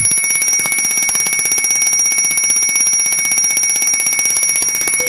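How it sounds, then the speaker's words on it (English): A firefighter's SCBA low-air alarm rings loudly, a high-pitched electronic tone with a rapid buzzing pulse that stays steady and insistent throughout. "When your air is low, you will hear this alarm."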